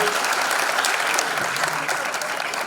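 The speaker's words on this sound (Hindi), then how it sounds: "जोरदार तालियां बरकरार आनंद के लिए।" Loud, steady applause from a concert audience at a stellar night of music, a dense wash of clapping holding evenly for the whole stretch.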